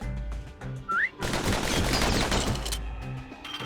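Pistol gunfire in the video game Bastion, a dense burst of rapid shots lasting about a second and a half after a short whistle-like tone, loud and close over steady game music.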